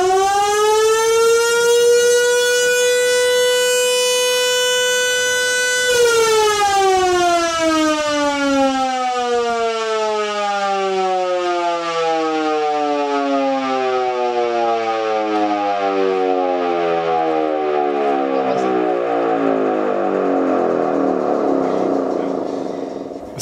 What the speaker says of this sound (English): We can probably get away with one more 10-second blast.